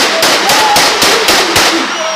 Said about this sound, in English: it was blanks and that some said it was a toy gun